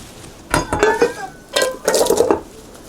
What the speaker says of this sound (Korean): 고춧가루 넣고 양파를 이제 기름에 볶아주면 돼요